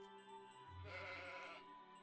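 A single sheep bleats once, faintly and a little distant, in the pastoral video game Old Man's Journey, over soft background music.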